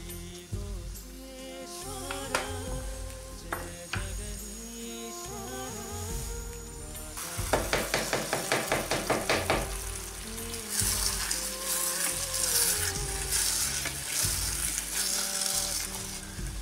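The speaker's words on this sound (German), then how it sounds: "Den Grieß einfach mal ein bisschen anrösten." Semolina toasts and fries in fat in a pan for a vegan Grießschmarrn, a continuous close sizzle with stirring scrapes and a louder crackling burst partway through.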